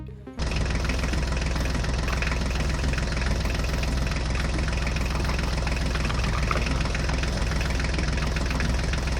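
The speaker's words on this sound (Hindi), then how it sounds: "जल्दी से अपनी ट्रैक्टर गाड़ी को स्टार्ट करो।" A toy mini tractor engine, John Deere style, runs steadily and loudly for several seconds with a continuous buzzing, rattling drone and no pauses.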